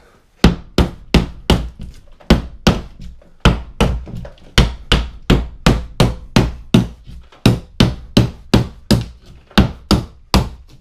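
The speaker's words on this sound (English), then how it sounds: "I like hitting it with the hammer" A hammer strikes repeatedly near drywall during a baby room renovation, landing about twenty loud, close, woody thunks in a steady, even rhythm with no talking.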